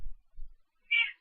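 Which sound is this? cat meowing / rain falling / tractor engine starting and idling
cat meowing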